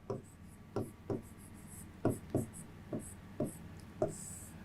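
Chalk strokes on a classroom board during a maths lesson on trigonometric functions: about nine short scratchy taps and scrapes at an uneven rhythm, close and fairly clear, with no talking.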